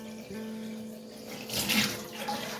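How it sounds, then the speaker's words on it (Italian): Lukewarm water runs from a tap while sausage casings are rinsed for making mortadella, a steady close hiss that swells briefly louder midway. "acqua tiepida"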